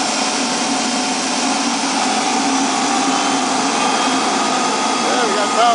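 A Tiernay TT10 gas turbine generator runs steadily nearby, giving a continuous, even rushing roar with a faint high whine that holds level throughout without pause.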